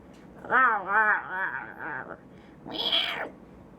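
A cat in a video being played back meows several times in quick succession, then lets out one longer, higher meow after a short pause.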